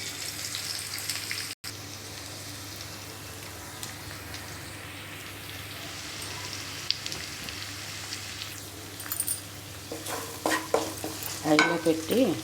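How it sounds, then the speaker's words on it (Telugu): Onions fry in an oiled pan with a steady soft sizzle, joined toward the end by louder scraping and clinking as a utensil stirs them, close and without speech. "ఉల్లిపాయలు బాగా బ్రౌన్ కలర్ వచ్చినంత వరకు వేగాలన్నమాట."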